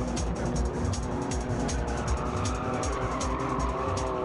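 Steady rumble of a moving car, with continuous engine and road noise and a hint of tire squeal, loud and sustained throughout.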